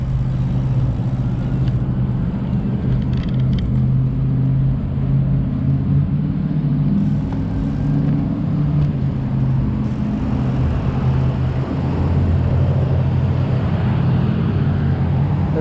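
Motorcycle engine droning steadily and loud against wind rush as the rider gears down to climb a small incline at a stop, with slight shifts in tone along the way.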